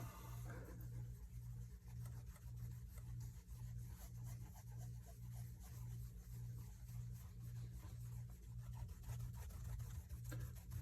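A thin coat of wax is worked into a shoe with a soft, continuous rubbing, faint and close, while a low repeating hum pulses steadily underneath; nobody speaks.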